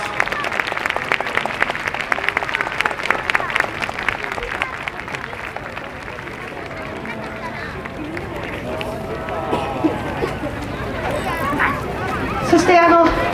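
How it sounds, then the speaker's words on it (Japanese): A crowd at the Beppu Hatto hot-spring festival applauds in a dense, steady wash of clapping that fills the first half, then thins into crowd murmur with a few voices and scattered claps near the end. "皆さんどうぞもう一回拍手をお願いします"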